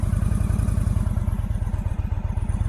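Motorcycle engine running at low revs while the clutch is slowly let out, a close, rapid, even thumping pulse with a slight clatter and no talking.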